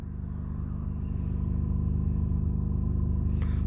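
A car engine rumbles close by and steadily grows louder as it passes during a morning ride, a low throbbing drone heard alone with no talking.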